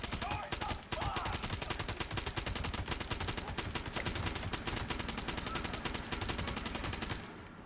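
Sustained automatic gunfire in the video game Fallout 76, a dense rapid stream of loud, close shots that runs almost nonstop for several seconds before cutting off near the end.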